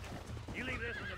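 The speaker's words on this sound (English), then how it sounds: "And I gotta mount my horse." A horse in Red Dead Redemption 2 gives a short, rising whinny with faint hoof clops, heard close and clear under a game soundscape.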